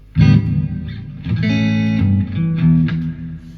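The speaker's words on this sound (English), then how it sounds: "That's the reverb." Electric guitar played through the reverb effect of a Crate FlexWave 120/212 amplifier, a few chords and notes ringing out with a washy, lingering tail, close and fairly loud, with no voices.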